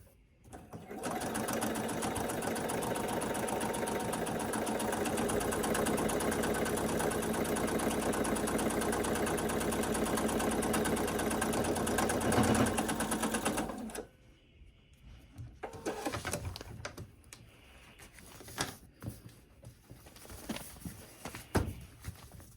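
A sewing machine stitches a nested quilt seam, running steadily and fast for about thirteen seconds at close range, then stops and gives way to quieter handling noises.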